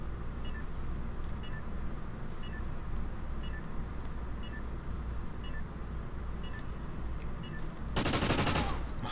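Gunfire in the video game Call of Duty: Ghosts during a one-on-one bomb-defusal match, heard as a steady rattle of shots under loud game ambience, ending in a dense, louder burst near the end.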